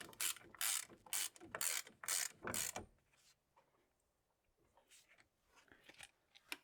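A hand ratchet tightens a driveshaft bolt during front wheel bearing work on a Volvo V70, XC70, S60, V60 or S80. It gives several close, quick bursts of clicking, followed by faint handling noises.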